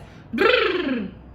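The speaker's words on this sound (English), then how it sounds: "called a lip trill. And that sounds like this." A single buzzy lip trill, a fluttering voiced tone that glides up and then slowly falls, lasting about a second, close and fairly loud.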